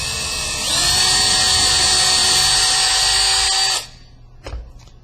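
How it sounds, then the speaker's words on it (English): A power drill bores a pilot hole for a screw during assembly, giving a steady, loud, close high-pitched whine for about three seconds before it cuts off, followed by a faint knock. "Now when you bore this hole, make sure everything's lined up"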